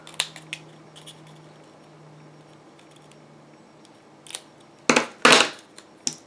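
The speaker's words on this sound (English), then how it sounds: "We'll just cut off the edges." Scissors snipping the edges off a strip of patterned paper, a few faint clips early, then several louder crisp cuts close by near the end, no talking.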